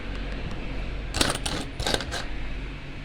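Gold dollar coins clatter out of car wash coin acceptors, several bursts of metallic jingling and clinking close by over a steady low hum.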